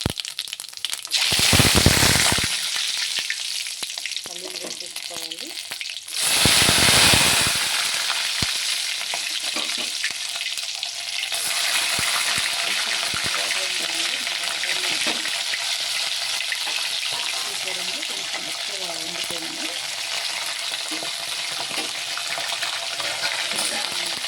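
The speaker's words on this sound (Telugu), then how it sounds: "ఆవాలు జీలకర్ర వేయాలండి ఆయిల్ వేస్తుంది కదా జాగ్రత్తగా తీసుకోవాలి" Mustard seeds, cumin and urad dal hit hot oil with two loud bursts of crackling spatter, then settle into a steady, dense sizzle and popping that continues throughout.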